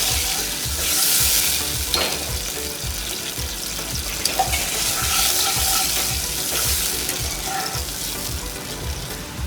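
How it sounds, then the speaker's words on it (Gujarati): An onion gravy with a splash of water fries in a pan for a veg lollipop dish. A loud, continuous sizzle runs throughout, with scraping stirring strokes mixed in and no talking. "ગ્રેવીને તળવા દેવાની"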